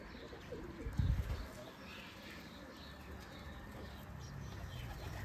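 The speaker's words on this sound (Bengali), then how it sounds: "সব কবুতর ওখানে বসেছে" Giribaz pigeons coo softly close by, a brief louder flutter near the start giving way to steady low cooing and faint chirps over outdoor background noise.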